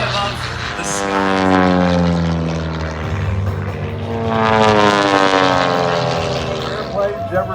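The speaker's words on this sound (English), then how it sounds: "It's the final time you will see this plane fly above the sky." Propeller airplane flying past at an air show in Oregon, a steady loud engine drone with swelling and fading Doppler sweeps as it passes overhead, without voices.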